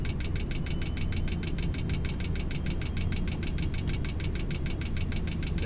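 Aircraft engines restart in a Flight Simulator X session, giving a steady, loud, rapidly pulsing drone that holds an even rhythm throughout with no talk.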